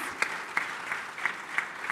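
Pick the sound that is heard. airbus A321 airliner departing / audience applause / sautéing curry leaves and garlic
audience applause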